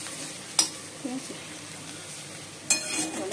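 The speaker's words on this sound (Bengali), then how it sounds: "উচ্ছে আলু ভাজা হয়ে গেছে, এর মধ্যে পেঁয়াজও দিয়ে দিচ্ছি।" Bitter gourd, potato and onion frying in a pan while being stirred, giving a low steady sizzle with a few sharp scrapes of a utensil; a voice speaks briefly.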